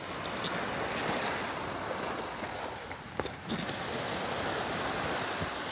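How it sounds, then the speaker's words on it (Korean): Strong sea waves in rain roar continuously with wind-like hiss at Songjeong beach, a broad steady wash of surf close by, with a few brief thumps in the middle. "이게 비와 파도가 굉장히 세고"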